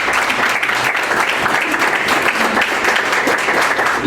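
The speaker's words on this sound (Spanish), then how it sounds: "Den un aplauso al Señor." A church congregation at a Spanish-language sermon claps to praise the Lord, a loud, sustained wash of many hands, steady and close.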